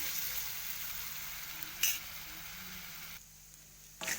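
Koti mira pickle mixture stirred in a pan, a soft steady sizzle and scraping with a couple of sharp metallic clinks from the spoon against the pan.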